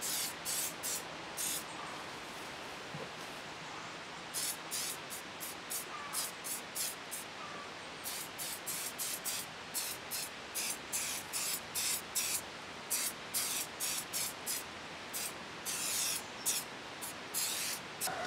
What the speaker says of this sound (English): I'm going to spray the belt using some belt grip.